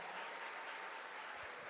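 Church congregation applauding during a family service, a steady, dense wash of clapping hands that fills the room evenly, moderately loud with no clear voices over it.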